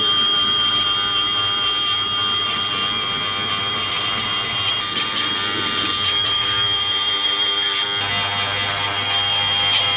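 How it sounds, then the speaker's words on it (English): A 3M bristle disc spins on a power tool against the surface of a first-generation 12-valve Cummins engine block, producing a loud, continuous, high scrubbing whine with no pauses. "I've gone over most of the block surface with the 3M bristle disc"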